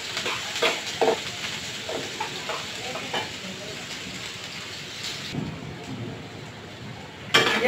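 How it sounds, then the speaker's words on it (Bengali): Onions sizzle and crackle in hot oil in a pan with green chilies, a steady close-up frying hiss with scattered pops and stirring clatter, ending in a brief louder scrape. "পেঁয়াজ কয়েকটা আমি একটু ভেজে দিচ্ছি।"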